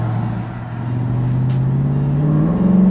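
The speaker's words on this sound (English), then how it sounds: "I'm about to go ahead and gas this thing." A Dodge Challenger or Charger V8 engine revs up under throttle, a loud, close, rising drone that climbs steadily in pitch over a few seconds.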